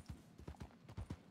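Quiet, evenly paced clip-clop of horse hooves in Red Dead Redemption 2, about six dull hoofbeats in a steady walking rhythm with no voices over them.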